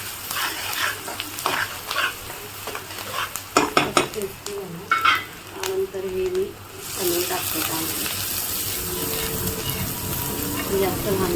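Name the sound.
grated paneer and capsicum frying and being stirred in a pan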